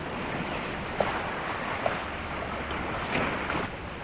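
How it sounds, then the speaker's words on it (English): Fast-moving water rushes through Sebastian Inlet, a dense, continuous wash of noise with faint splashes, blended with gusty wind buffeting the microphone, and no one talking. "The water's moving faster than I'm walking."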